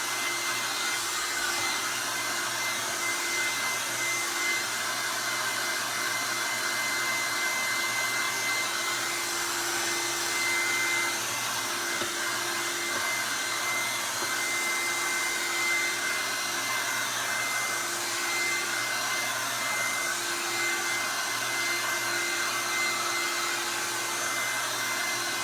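A hair dryer runs continuously over a canvas of fresh paint, producing a steady, loud, close-up blowing roar with a faint whine layered on top, unchanging throughout with no talking.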